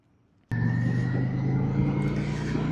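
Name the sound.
truck driving away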